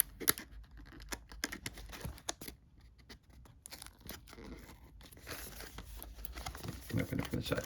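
Plastic shrink-wrap on a Coma Ward board game expansion pack is torn and crinkled open at close range in a series of sharp rips and rustles, with a few quiet pauses between.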